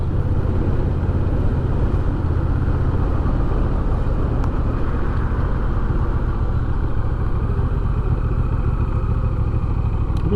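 Garbage truck collecting trash along a residential street, a steady low engine rumble with clattering, continuous and fairly loud throughout.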